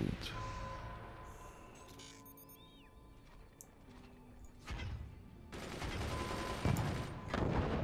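Cannon fire in the artillery strategy game Forts: bursts of booming shots and crackling gunfire-like blasts, with a dense, loud barrage toward the end, heard over game background sound.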